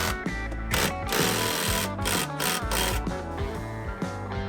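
Bolts loosened over time being tightened in an old Japanese house before a ceiling frame goes in: a continuous loud buzzing, grinding power-tool rattle with short pauses, close and steady, no talk.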